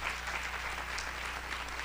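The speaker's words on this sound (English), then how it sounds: "Let's clap your hands," A church congregation claps together during a lively worship service, a dense steady wash of hands over a low sustained organ or keyboard hum, continuous and fairly loud throughout.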